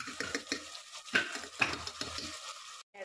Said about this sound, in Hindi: और इस चम्मच को अच्छी तरीके से हिला देना है